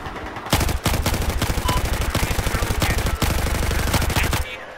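Light machine gun in Battlefield 4 fires long, loud sustained bursts of rapid rhythmic shots, with brief pauses between strings of fire, close up and dominating the mix.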